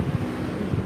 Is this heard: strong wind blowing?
yes